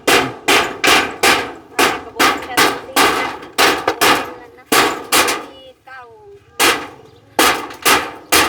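Nails are hammered during house building, with loud, close, sharp metallic blows in quick rhythmic bursts, a short squeaky scrape between strikes, and brief pauses.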